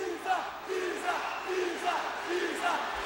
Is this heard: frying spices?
no